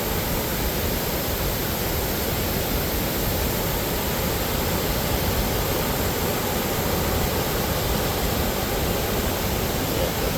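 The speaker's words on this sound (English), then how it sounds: "Big wide waterfall." Sandstone Falls in West Virginia's New River Gorge, a big wide waterfall, roars as a constant, loud, broadband rush of water that stays unchanged from start to finish with no other sounds on top.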